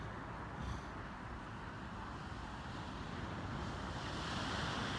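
Waves wash steadily onto a beach in Valencia after a powerful storm, a continuous broad roar of surf mixed with wind buffeting, with no talk.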